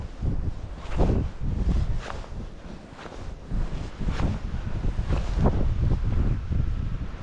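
Strong wind gusts buffet the microphone during a blizzard on a market farm, a loud, rough roar swelling and easing in repeated surges with no speech.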